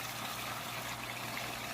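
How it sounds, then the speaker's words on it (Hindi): One cup of water poured into aloo gobi in a pan, giving a steady broad splashing rush that runs throughout, close and moderately loud with no talking. "अब हम इसमें 1 कप पानी ऐड करेंगे।"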